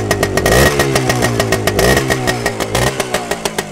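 A Suzuki RV125 two-stroke motorcycle engine idles and blips close by, a rapid buzzing putter with repeated throttle revs rising and falling.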